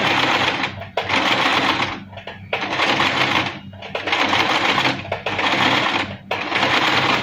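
A sewing machine stitches fabric in four loud, close bursts of rapid whirring, each lasting about a second, separated by short pauses while the fabric is adjusted.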